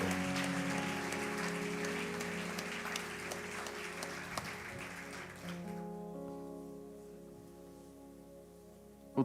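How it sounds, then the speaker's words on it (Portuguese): A church congregation applauds loudly and steadily during a worship service, the dense clapping continuing for several seconds before fading into a quieter tail. "Aplaudamos forte ao Senhor."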